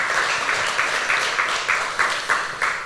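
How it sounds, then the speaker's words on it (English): At a 1 Million Cups entrepreneur meeting in the Oak House venue in Cherokee, an audience claps for the venue staff. The applause swells in regular pulsing bursts, moderately loud, with no one speaking. "Can we give a round of applause to the Oak House team?"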